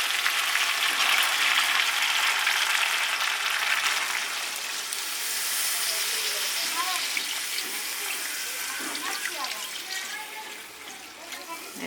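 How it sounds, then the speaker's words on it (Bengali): Water poured into a pan of frying country chicken curry, a broad rushing hiss and sizzle that gradually settles into softer bubbling and trickling, with faint talk in the background. "এবার আমি জল দিয়ে দিচ্ছি"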